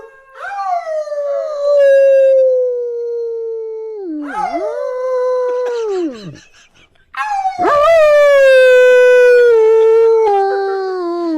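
A dog howls long and loud at close range in two extended, wavering bursts separated by a short pause. The second howl rises sharply before trailing off.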